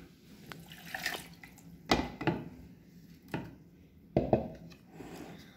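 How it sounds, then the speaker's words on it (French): Wastewater holding herbs, rice and semolina is poured through a coarse-holed colander into a bowl, giving a handful of scattered splashes, drips and knocks, close and fairly quiet, separated by short pauses. "Je filtre une première fois avec une passoire à gros trous."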